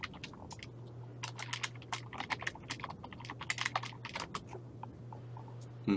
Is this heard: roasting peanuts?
no